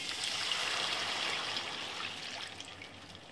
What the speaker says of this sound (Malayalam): ഇനി നമുക്ക് ഇതിലേക്ക് തേങ്ങാപ്പാൽ ഒഴിച്ചു കൊടുക്കാം.